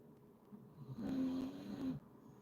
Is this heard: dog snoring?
yes